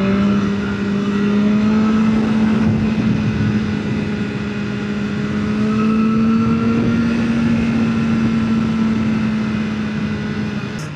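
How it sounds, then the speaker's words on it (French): BMW S1000R 2024 motorcycle revving hard at high rpm, a loud steady engine drone with a strong sustained tone rising slightly, close and continuous for the whole stretch with no voices. "c'est une moto qu'il faudrait toujours rouler à partir de 6000 en fait"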